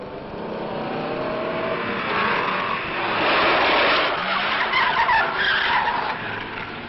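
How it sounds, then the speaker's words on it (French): A car skids under the handbrake with a long, harsh tire scrub and squeal under a roaring engine, the grinding noise swelling midway and continuing to the end. "Là, je le fais au frein à main."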